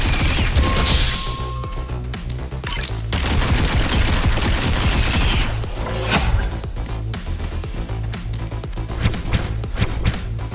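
Submachine gun fire in the VR space game Into Black, a dense rapid chatter of shots running nearly the whole stretch, loud and close with some mechanical clanks mixed in.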